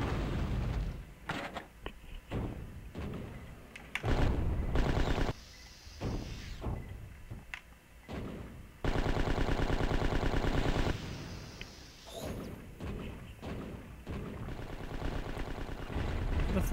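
Gunfire and rocket blasts from the video game Slave Zero crack out in rapid clusters of sharp shots and booming hits, with sustained bursts of automatic fire, loud and close with brief lulls between volleys.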